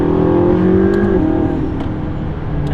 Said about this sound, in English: complaining about the sound that this car makes